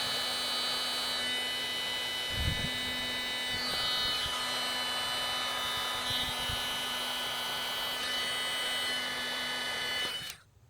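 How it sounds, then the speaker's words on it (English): A heat gun warms up with a steady electric hum and whir during wiring work on a Ford Explorer mass air flow sensor harness, broken by a few soft knocks before it shuts off. "So I'll let my heat gun warm up a little bit"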